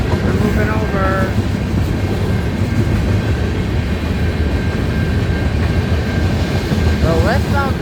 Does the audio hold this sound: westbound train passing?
yes